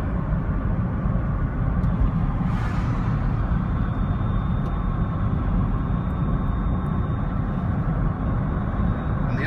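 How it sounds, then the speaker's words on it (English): Steady road noise inside a Smart ForTwo electric drive car with the back tailgate on, a constant broadband rumble and hiss from the tyres at an even level, no voices. "the only noise you can hear is a little bit of road noise because we've got the back tailgate on."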